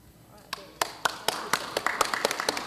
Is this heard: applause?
yes